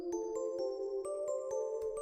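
A short two-second melody loop made in FL Studio plays softly, with sustained synth tones under a light, regular ticking pulse and faint bell-like high notes.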